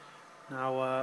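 A Ferrari FXX racing car with traction control off and a high-top-speed tune, driven in Gran Turismo 6, gives a steady, loud engine drone that cuts in abruptly halfway through and holds at an even pitch.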